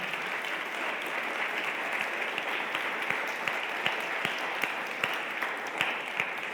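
A church congregation claps continuously during a Spanish-language service, a moderately distant, even wash of many hands with a few sharper individual claps standing out.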